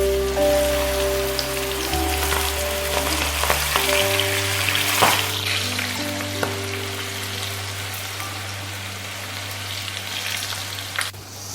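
Masala-coated okra (ladies finger) frying in hot oil, a steady dense sizzle and crackle throughout, loud and close, with a low steady hum underneath and a few sharp clinks near the middle.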